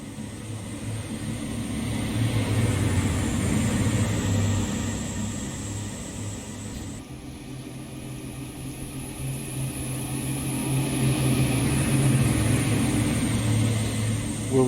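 A train engine throttles up in a railway simulator on the run from London King's Cross, a steady low droning hum under a thin high whine that grows louder and fuller toward the end, with no talking.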